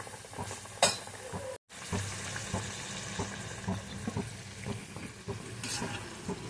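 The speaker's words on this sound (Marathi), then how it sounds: "अशा आपण दोन दोन थोड्या तळून घेणार आहोत" Sambar vadi pieces fry in hot oil with a continuous close sizzle and crackle, punctuated by a few clinks and stirring scrapes, no talking.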